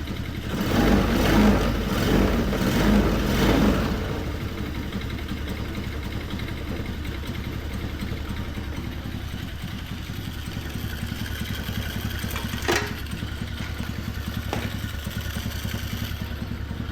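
A Land Rover Defender-style mini jeep engine runs at a steady idle with a low, even chugging rumble, a little louder for the first few seconds and then settling into a constant putter.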